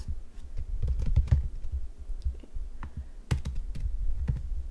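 Fingers tap steadily on a computer keyboard while entering data for a statistics class assignment, a dense run of close, quick clicks with brief irregular pauses and no talking.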